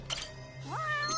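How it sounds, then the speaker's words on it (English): A single cat meows twice in the video game Judgment, a short rising call followed by a drawn-out higher meow over a quiet steady hum. "I hear a cat."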